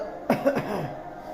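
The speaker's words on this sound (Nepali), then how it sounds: "अब यसलाई चाहिँ खोकी लागेको छ" A couple of short, raspy coughs close by, followed by a fading breathy tail against a quiet background.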